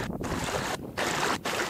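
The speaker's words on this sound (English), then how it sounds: "This is a fast moving river." A fast-moving river, swollen after heavy rain, produces a loud, continuous broadband rush heard close by, briefly dropping out twice in short gaps.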